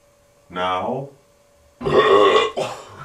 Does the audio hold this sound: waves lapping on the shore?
no